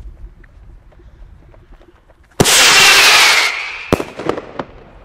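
A Rattlebang firecracker goes off at a New Year's Eve celebration with a sudden loud blast and a dense crackling burst, followed by a few scattered sharp pops.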